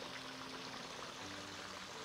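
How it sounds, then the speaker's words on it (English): A 12-volt solar-powered bilge pump squirts water at high pressure into an aquaponics tank, giving a steady, faint rushing and splashing stream that runs unbroken throughout. "that's just squirting water at a high pressure into the tank to get some water movement and some bubbles and air in there"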